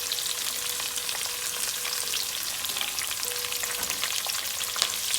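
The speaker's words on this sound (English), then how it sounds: "I'm going to fry the onion until it's nice and brown." Sliced onion and curry leaves fry with crushed garlic in a pan for a spicy banana fry, giving an even, continuous close sizzle with fine crackling and no voices.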